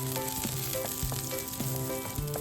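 Garlic slices frying in hot oil in a wok, a continuous close sizzle with occasional scraping stirs and a faint steady tonal hum underneath.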